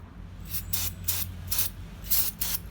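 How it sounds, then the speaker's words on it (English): Repeated short hissing bursts from a degreaser spray can on a blacksmith leg vise, about six sprays at uneven intervals over a low steady background hum. "This spray is degreaser."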